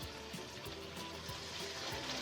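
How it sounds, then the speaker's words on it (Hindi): A little water goes into a pan of frying fish curry masala with tomatoes, making a steady, close hiss and watery wash with faint bubbling throughout, with no talking. "अगर हमारा मसाला नीचे लग रहा तो हम थोड़ा सा इसमें पानी भी डाल सकते हैं।"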